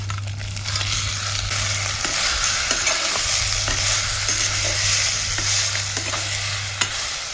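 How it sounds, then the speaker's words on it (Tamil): Steady loud sizzling of mustard seeds, cumin, black pepper and crab frying in oil for village-style crab rasam, a dense continuous crackle with a low hum underneath and occasional spoon scrapes. "கடுகு, சீரகம், மிளகெல்லாம் நல்லா எண்ணெயில் பொரிஞ்சு வாசம் வந்துருச்சா"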